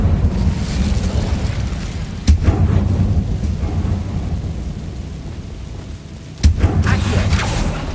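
Incendio fire spell cast in Hogwarts Legacy, heard as two sharp, loud bursts a few seconds apart, each a sudden crack over a steady low rumbling background, with no talking.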